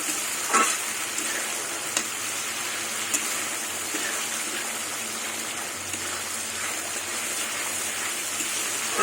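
Spices fry in hot oil for a koi fish curry, giving a continuous close sizzle with occasional soft stirring scrapes, steady and without speech.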